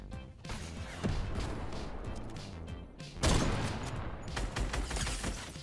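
Gunfire in a Fortnite battle, with a rapid volley of shots and impacts, a heavy crack partway through, and further bursts, loud and close over busy game noise.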